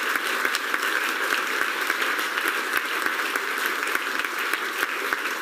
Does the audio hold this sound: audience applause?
yes